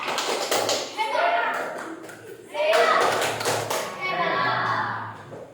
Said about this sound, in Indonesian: kita berikan tepuk hebat